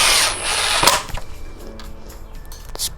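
Power drill driving screws to attach a carry handle to a wooden end-grain tomahawk and knife throwing target, a loud close burst of motor whine followed by quieter clicks and handling knocks.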